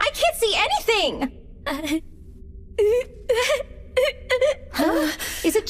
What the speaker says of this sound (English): Is it just me, or does it sound like someone is crying?